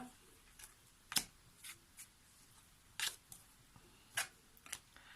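Tarot cards being shuffled for a final draw, heard as a series of soft, sharp clicks and flicks at irregular intervals against a quiet background.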